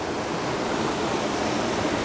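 A waterfall pours over a spillway, making a continuous, even roar of rushing water that stays loud and unbroken throughout, with no voices.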